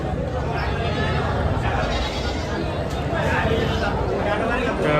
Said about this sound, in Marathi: इकडनं तुम्ही शेळ्या पाहू शकाल.